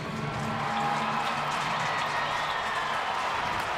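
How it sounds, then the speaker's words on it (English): Big Friday-night baseball stadium crowd of nearly 45,000 at a Padres vs Phillies game, a steady broad roar with scattered applause, constant and enveloping with no pauses. "Big crowd here on a Friday night."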